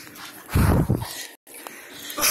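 A dog in a dark room whines and gives low growling whimpers in short bursts. A brief silent gap breaks the sound before the whimpering resumes.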